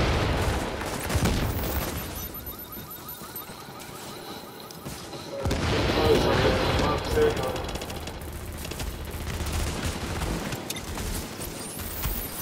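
Rapid gunfire with explosive rounds from a firefight in Tom Clancy's The Division, dense crackling bursts and booms running throughout, loudest in a surge midway, with players talking over it.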